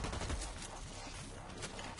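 Bursts of gunfire in the shooter Blacklight, a rapid rattle of shots with dense, overlapping reports filling a short, busy stretch of game sound.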